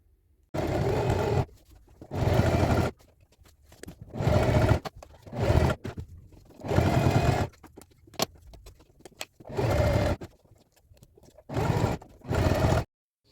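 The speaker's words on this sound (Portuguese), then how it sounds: "Então, eu vou ter uma costura de meio centímetro e eu vou passar essa costura até lá embaixo" A sewing machine runs a half-centimetre seam down a slit skirt in about eight short bursts, each a second or so, with brief pauses between them, close and clear and with no talk.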